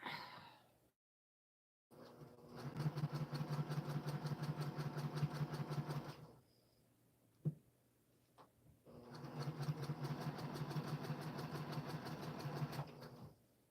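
A sewing machine stitches quilt pieces in two steady bursts of several seconds each. The machine sounds close with a rapid, even whir, and a brief quiet stretch with a single sharp knock falls between the bursts.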